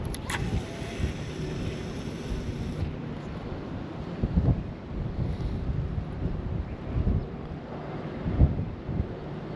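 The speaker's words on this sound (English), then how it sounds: "it's just a little too windy" Steady wind blowing across an open lake at a fishing spot, a continuous broadband rush with gusty swells and rumbling buffets on the microphone, no voices.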